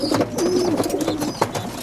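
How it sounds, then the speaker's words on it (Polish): Pigeons coo steadily in a crate during road transport to Poland, soft overlapping coos and rustling continuing close by with no talk. "Ładne ptaszki, prawda?"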